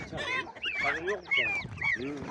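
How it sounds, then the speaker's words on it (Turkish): Peking ducklings at a Sungurlu poultry market, peeping in a close cluster of thin, high chirps, with a voice talking among them. "Burada da ördek civcivlerimiz var."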